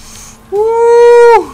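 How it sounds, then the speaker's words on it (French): Racing car engine in the Hotshot Racing video game, a steady rising whine that holds for nearly a second before cutting off abruptly, loud and alone without talk. "faut que la voiture roule à plus de 120"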